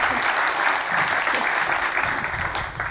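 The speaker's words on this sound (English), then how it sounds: "Let's give her an applause." Audience applause at a startup demo day event on a campus, a dense burst of clapping from a seated crowd that swells and then begins to thin toward the end.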